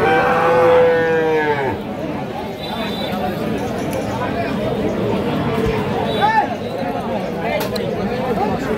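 Cattle at a livestock market, several cows lowing loudly near the start amid a dense crowd of traders chattering and bargaining, with more moos further off under the steady hubbub.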